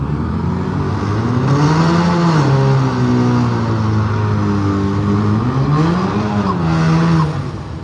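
Drag race cars, a Camaro and a Mustang, roar loudly at an arm-drop revival event, engine pitch climbing and falling through gear changes as they accelerate, close and continuous with no talk.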